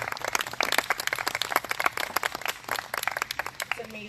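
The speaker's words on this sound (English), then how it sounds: "Can we have another round of applause?" Audience at an evening event applauding, dense rapid clapping from many hands, moderately loud and continuous, with a voice briefly talking over it near the end.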